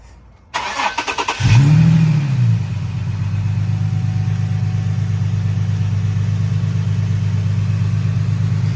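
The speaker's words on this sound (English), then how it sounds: "we're gonna do the first startup with intakes" An Infiniti G37 engine with newly installed long tube intakes cranks with a rapid stuttering starter, catches and revs up, then settles into a steady, loud idle that continues to the end.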